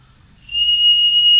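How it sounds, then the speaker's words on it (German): A hollow tube-shaped pasta noodle is blown as a whistle, giving one clear, steady high-pitched tone that starts abruptly and holds, loud and alone. "röhrenförmige, hohle Teigwaren, die pfeifen"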